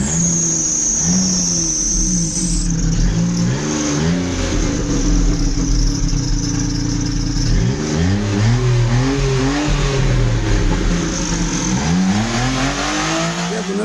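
A Daewoo Matiz with a freshly repaired exhaust muffler revs repeatedly, the engine note climbing and falling in several loud, close bursts over a steady idle, with no talking.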